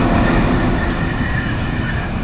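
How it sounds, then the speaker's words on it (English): The Brisbane-to-Sydney XPT passenger train rumbles loudly and steadily up close, with a continuous rolling roar and a faint high wheel squeal running throughout. "is the Brisbane-to-Sydney XPT"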